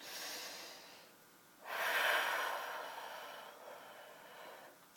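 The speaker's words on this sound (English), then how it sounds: "And I'm going to take a deep breath." A single slow, deep breath, close and fairly soft: a long airy inhale followed by a gentle fading exhale, with no talking.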